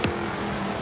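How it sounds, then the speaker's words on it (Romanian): A sleeper car's engine in the racing game Forza Horizon 3 gives a sharp burst at the start, then settles into a steady, low engine drone for under a second. "sunetul motorului seamănă cu cel de la Audi RS4"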